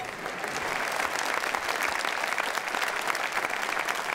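Audience applause fills a Christmas concert hall, a dense, steady clatter of many hands clapping together at close range, loud and sustained throughout with no voices standing out.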